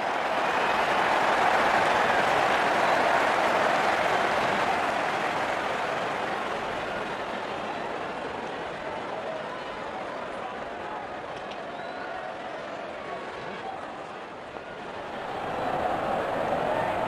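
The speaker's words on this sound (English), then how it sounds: "Openers walking in and the crowd cheering in anticipation." A cricket stadium crowd cheers in anticipation in Real Cricket 22, a broad, sustained roar that stays loud, dips slightly in the middle and swells again at the end, with commentary speech over it.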